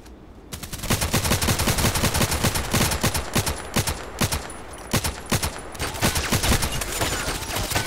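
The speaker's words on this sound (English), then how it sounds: "Some shooting on the left." Rapid bursts of automatic gunfire from the Contract Wars shooter, dense overlapping shots after a brief quiet start, loud and continuous with short gaps, no voices.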